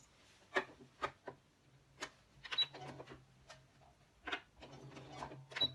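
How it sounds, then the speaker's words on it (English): A sewing machine stitches fabric for a bag in short, quiet bursts of rapid mechanical clatter separated by pauses, with a faint steady hum underneath. "So we're just going to stitch that now."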